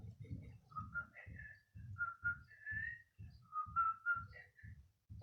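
Someone whistles a short, wavering melody over a steady low thumping beat, the tune moderately clear with brief pauses between phrases.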